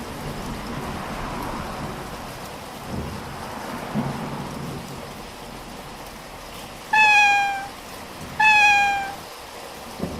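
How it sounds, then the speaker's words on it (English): Steady rain hisses throughout with a couple of low rumbles, then two plaintive cat meows sound close by near the end. "The rain is very heavy now."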